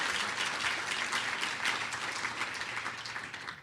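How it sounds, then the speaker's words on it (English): An audience at a city's State of the City address claps in a dense, continuous round of applause that holds steady and then begins to fade at the end. "clap on that"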